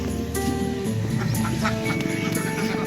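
Ducks quack repeatedly at close range on a small poultry farm that also keeps turkeys and laying hens, a steady run of overlapping calls with no talk.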